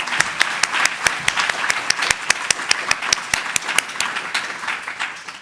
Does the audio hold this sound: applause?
yes